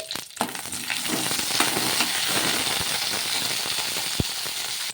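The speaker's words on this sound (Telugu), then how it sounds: "అందులోకి పచ్చిమిర్చిని అయితే వేసుకొని కారానికి తగ్గట్టు కొద్దిగా ఆయిల్ అనేది వేసేసుకొని ఈ పచ్చిమిర్చి అయితే మగ్గించుకున్నది" Green chillies sauté in a little oil in a kadai, a continuous loud sizzle broken by metallic clinks and scrapes of stirring, with a sharp knock near the end.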